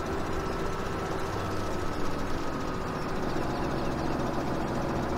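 A tractor engine in the video game Farming Simulator 17 drones at a steady, laboring pitch while pulling a heavy implement, a continuous loud rumble with no talking.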